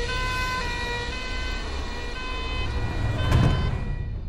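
An ambulance siren wails loudly and steadily in a Hindi-dubbed South Indian film, its tone held over continuous background noise with a brief swell of louder rumble near the end; no one speaks.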